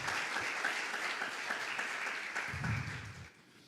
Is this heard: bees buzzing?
no